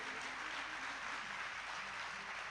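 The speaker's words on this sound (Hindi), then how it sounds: "एक बार जोर से कलश यात्रा की भी जयकारी करें तालियां बजा के।" An audience claps at a religious discourse after a kalash yatra procession, a soft, dense, even patter of many hands that sounds distant and quiet throughout, with no voices on top.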